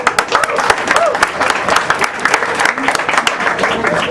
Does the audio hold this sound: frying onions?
no